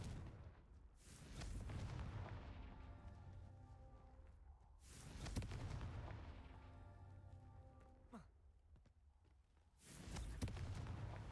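Confringo spell blasts from the Hogwarts Legacy video game: three booming explosive bursts at roughly even intervals, each with a sharp crack onset and a rumbling decay, over faint game ambience.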